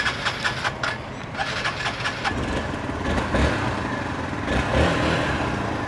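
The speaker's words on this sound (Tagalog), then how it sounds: "Malamig pa ang makina." A cold dirt bike engine cranks and sputters outdoors: a few short revving bursts, then a rough uneven running rumble that rises and falls before faltering.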